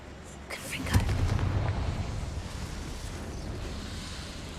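Confringo fire spell exploding in the game Hogwarts Legacy: a sudden boom followed by a long, rumbling roar that slowly fades, with a voice speaking over it.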